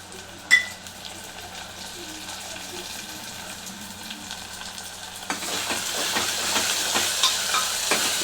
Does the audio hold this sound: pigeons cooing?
no